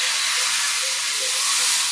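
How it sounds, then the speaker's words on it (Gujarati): Hot tempering (vaghar) of oil with hing being poured over buttermilk kadhi, heard as a loud, steady steamy sizzling hiss that holds evenly throughout, close up, with no talk. "હવેથી આપણે ઉપર વઘાર મારી દઈશું"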